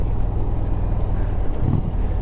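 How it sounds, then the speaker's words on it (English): A heavy log truck rumbles past on the road, a steady low engine drone with wind buffeting the microphone. "Oh, log truck."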